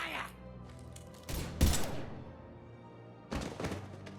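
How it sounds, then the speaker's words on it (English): Gunfire in Mass Effect 3 on the Citadel: a couple of sharp, loud bursts of shots with a gap between them, set against quieter game ambience and faint voices. "Now open fire!"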